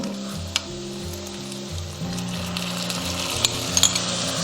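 Pork belly stir-fried with shiitake, onion, ginger and sauce sizzles steadily and close, with a low tonal hum running underneath and a few brief clinks near the end.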